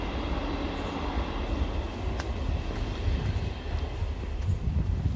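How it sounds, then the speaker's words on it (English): A train passes somewhere in the distance, a steady low rumble and rolling noise that stays faint and even for the whole stretch, with light wind and no talking. "Just hear the train. It's over there somewhere."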